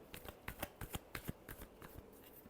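Tarot cards are shuffled by hand in a quick series of crisp riffling flicks, close and fairly quiet with no talking.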